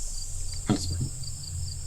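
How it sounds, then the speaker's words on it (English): Night ambience in the hills, with crickets chirping in a steady faint high-pitched drone and a brief low thump midway, with no clear owl call. "So you're hearing now the night sounds, and there are owls and crickets and various other creatures of the Kron Hills"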